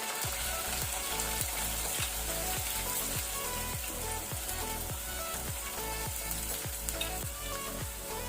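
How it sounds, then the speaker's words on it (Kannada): Onions, with spring onion whites, frying in oil in a pan over a medium flame, a steady close sizzle with a regular pulsing rhythm of stirring throughout, and no voices. "ಈಗ ಈರುಳ್ಳಿಯದ್ದು ಕಲರ್ ಚೇಂಜ್ ಆಗೋ ತನಕ ಮೀಡಿಯಂ ಫ್ಲೇಮಲ್ಲಿ ಹುರಿಯುವ"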